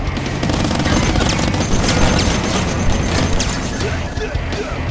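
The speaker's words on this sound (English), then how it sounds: "The grenade launcher." A grenade launcher fires in the Squirrel with a Gun video game, a dense, loud barrage of blasts and crashing impacts that runs without a break over music and faint voice.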